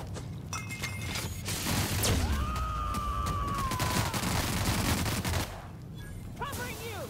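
Rapid gunfire crackles through a fight in the game The Outer Worlds, a steady loud fusillade mixed with other effects and a rising and falling tone, with a voice speaking faintly underneath.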